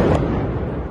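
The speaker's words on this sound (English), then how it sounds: "we woke up to the sound of explosions in Kyiv as the Russians launched a massive drone attack against this city" Explosions from a massive Russian kamikaze drone attack on Kyiv: a sharp blast at the start, then a dense, low rumbling roar that stays loud and fairly steady throughout.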